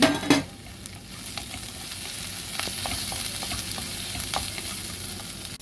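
Onions and yam sizzle steadily in a hot pan, a continuous crackling hiss with occasional light pops, following a brief clatter at the start.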